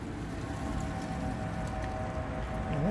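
Rain falls steadily during a Waymo driverless taxi ride, a constant wash of drops heard from inside the vehicle with a low rumble beneath and a faint rising tone near the end.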